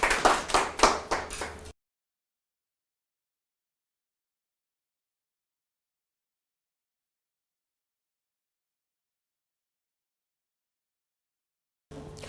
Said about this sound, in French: merci d'applaudir pour lui s'il vous plaît